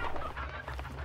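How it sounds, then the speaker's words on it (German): Chickens in the video game Hunt: Showdown give a dense, close chorus of clucking and squawking, with a low background rumble, alone without talk. "Hühner."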